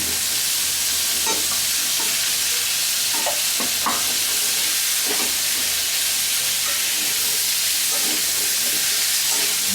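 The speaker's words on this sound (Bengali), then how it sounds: "এখন ভালো করে ভাজতে হবে" Thin pumpkin slices fry in a pan for a Bengali kalonji pumpkin bhaji, a steady close sizzle and hiss broken by soft scraping and clinking stirs at irregular moments, with no voices.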